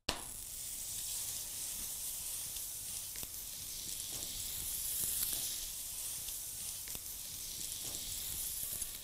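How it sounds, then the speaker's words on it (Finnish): Meatballs frying in butter in a pan give a soft, steady sizzle and hiss that holds evenly throughout, fairly faint and with no talking. "eli paistetaan ihan voissa"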